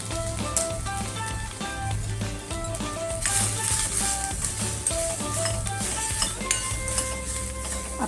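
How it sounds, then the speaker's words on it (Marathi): Brinjal sautéing in oil in a pan for a traditional village-style spicy khara vangi, with steady sizzling and frequent metallic clinks of a spoon against the pan, fairly close and continuous, with no talking. "आपण ते परतताना, ते वांगी परतताना जे तेल टाकलं"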